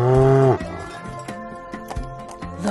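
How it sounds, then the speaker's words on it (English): A cow on a farm gives a loud, close moo that ends abruptly, followed by quieter clip-like sounds and brief animal noises in the background. "The cow."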